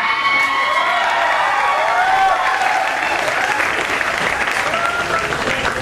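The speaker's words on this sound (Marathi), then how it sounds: "सगळ्यांनी टाळ्या वाजवा." A school cultural-event audience claps and cheers for the performers, a dense wash of applause with whoops and children's shouts that holds steady throughout.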